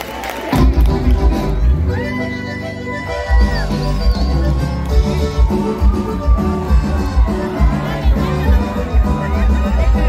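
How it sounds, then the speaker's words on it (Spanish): A crowd at the Fiesta de la Misión in Baja California cheers and shouts, a loud sustained roar of many voices with a whistle-like tone rising briefly above it. "Fuerte el aplauso, por favor."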